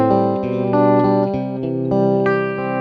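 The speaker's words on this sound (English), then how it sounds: "A real slow tremolo." Electric guitar through a slow tremolo effect on a Fractal VP4 virtual pedalboard, sustained distorted chords whose loudness swells gently and steadily, played alone with no talking.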